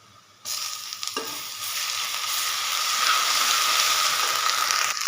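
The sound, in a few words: garlic ginger paste sizzling in frying onions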